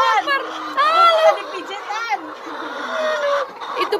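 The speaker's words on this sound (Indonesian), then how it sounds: "Itu pantat digigitin ayam." Chickens at a farm in Bangladesh clucking and squawking in bursts, close and fairly loud, with a person talking over them throughout.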